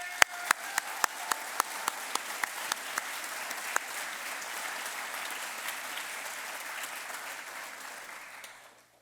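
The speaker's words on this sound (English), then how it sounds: "Please join me in applauding our individual award winners once again." An audience at a military graduation ceremony applauds award winners. A few sharp, separate claps quickly build into steady, moderately quiet applause that fades out at the end.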